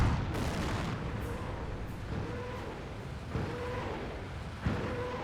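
Artillery firing in a Company of Heroes 1 battle, repeated booming reports over a constant rumble of battlefield noise, with several distinct thumps spaced a second or two apart.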